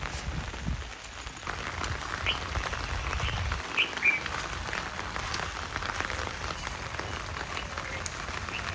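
Steady rain falls on a farm, a dense, even hiss that runs throughout with a brief low rumble early on and no voices.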